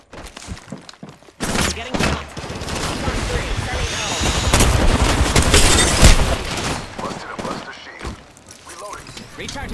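Apex Legends battle gunfire erupts in heavy, rapid volleys with thuds and impacts, building loud and close before easing off, with occasional in-game voice lines.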